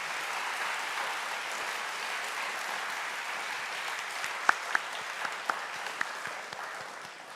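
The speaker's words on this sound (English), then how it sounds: "So give yourselves a huge round of applause." Audience applause at an FRC robotics season kickoff ceremony in Atlanta, a steady, sustained wash of clapping heard from a slight distance, with a few sharper individual claps standing out near the end.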